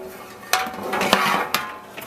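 A metal pan clanks down against a dishwasher rack several times, sharp knocks with brief rattles in between, close by and otherwise quiet.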